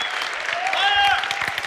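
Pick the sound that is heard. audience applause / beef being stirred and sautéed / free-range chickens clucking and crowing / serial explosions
audience applause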